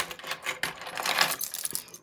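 Metal keys jangling and clinking close by, a brief burst of bright rattling jingles, quiet with no talking.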